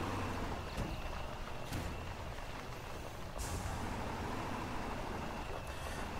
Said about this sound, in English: I need to park this truck.